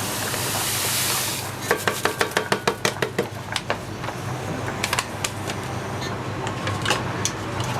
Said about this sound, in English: So at this point we're going to put the sugar. I'm gonna put 2 kilos.